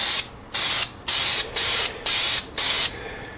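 Spray can laying a heavy coat of paint on brake calipers, six short even hissing bursts in a regular rhythm with brief pauses between, loud and close, no talk.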